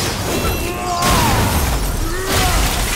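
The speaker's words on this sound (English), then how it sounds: "Oh, the Revenant got itself smashed." In God of War, a Revenant enemy is crushed between traps: a loud shattering crash rings out among ongoing combat noise and eerie tonal game sounds.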